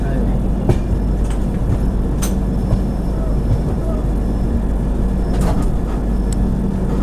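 The Anga Express passenger train (12254) running through Tamil Nadu, a steady loud rumble of wheels and carriage with periodic rail clicks and brief squeals, heard from inside the train.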